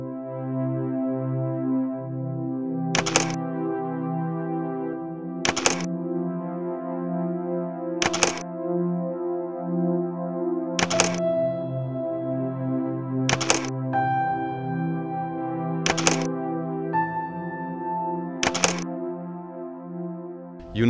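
A camera shutter fires eight times at an even pace of about one shot every two and a half seconds during ambient-light macro photography, each click crisp and close over a sustained tonal musical bed.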